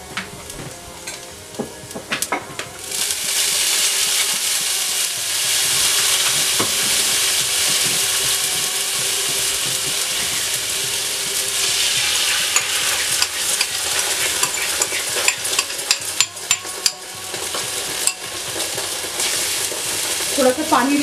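Ginger and vegetables for an Indo-Chinese chopsuey sizzle loudly in a pan over medium heat, with steady hissing broken by scraping stirs and occasional faint talk.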